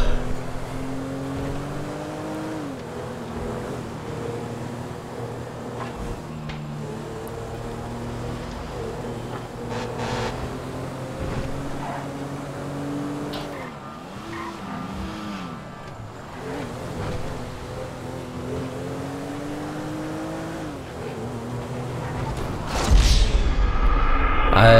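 A car driven in the video game GTA 5 on PS5 hums steadily with shifting engine tones, rising and falling as it accelerates and slows, loud and continuous before ending in a sharp crash-like burst.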